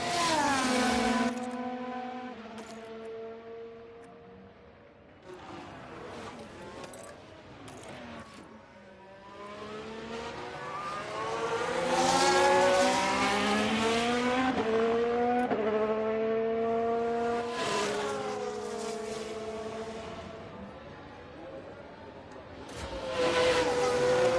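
Simulated F1 car engines in F1 Manager 23 whine and shift through gears continuously, several cars overlapping with rising and falling pitch, loud throughout without talk.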